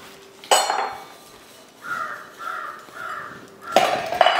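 Dishes, pots and utensils being washed produce two sharp metallic clanks of pots striking each other, near and loud, with a series of softer rhythmic scrubbing or rinsing sounds in between.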